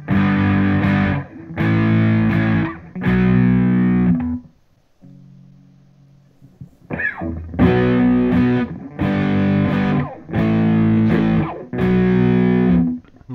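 An electric guitar plays through a Boss Katana Artist amp on contour two, giving loud, distorted strummed chords in a steady repeating rhythm, with one brief low sustained note and a pick scrape midway.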